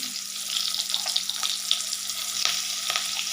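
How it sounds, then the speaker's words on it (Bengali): A large onion fries in oil in a pan, giving a steady, close broadband sizzle that holds through without pause. "তেলের মধ্যে আমি একটা বড় সাইজের পেঁয়াজ ভেজে নিচ্ছি"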